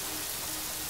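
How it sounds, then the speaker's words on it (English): Steady rain falls in the video game Yonder: The Cloud Catcher Chronicles, a dense, even hiss of downpour with no breaks. "it's getting dark and rainy"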